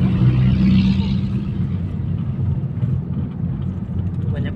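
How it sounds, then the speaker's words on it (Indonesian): Steady traffic rumble fills a city street as several cars pass close by, a loud continuous engine drone that swells early and then settles into a lower, even roar. "Banyak mobil, Bi."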